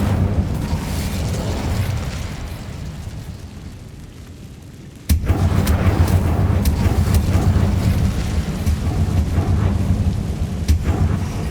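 Fire spell cast in the Hogwarts Legacy video game, heard as a sudden loud whooshing blast that cuts in midway and gives way to a sustained roaring, crackling rumble.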